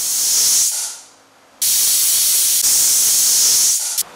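A pressure cooker whistles hard as it vents steam while cooking dal rice: a loud, sustained hissing blast that breaks off briefly, then returns for a long second burst.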